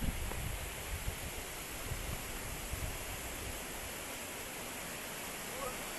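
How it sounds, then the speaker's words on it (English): A waterfall on a hiking trail, the Fanie Botha Trail, gives a steady broadband rush of falling water, faint and even throughout with no talk over it. "And that's this unbelievable waterfall."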